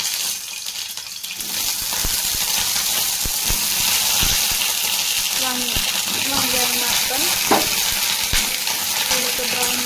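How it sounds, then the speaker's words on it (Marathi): Brinjals sauté in hot oil in a kadhai, a steady loud sizzle and crackle running throughout, with occasional scraping stir strokes and light knocks against the pan. "आता वांगी आपण तेलात परतून घेऊया"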